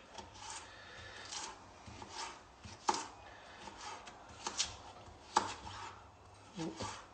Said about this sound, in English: all we're going to do is just really finely slice the cabbage